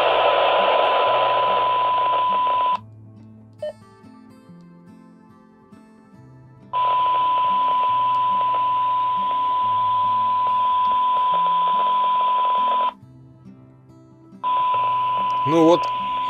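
Weak signal coming through an Ailunce HD2 DMR handheld radio with the squelch opened: faint, muffled, hissy transmissions broken into several bursts, each cut by a sudden drop to quieter noise, ending in a short chirpy tone.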